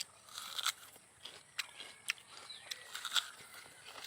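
Lotkon fruit bitten and chewed with repeated soft crunches and wet chews at an irregular pace, close and fairly quiet, with no talking over it.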